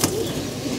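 A brief, soft coo from pigeons kept in a loft, heard close and alone in a quiet moment without talk.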